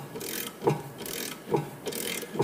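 A hand-turned bearing puller draws a new front wheel bearing into a 2008 Hyundai Accent hub, making repeated close ratcheting clicks and creaks in an even rhythm roughly every second.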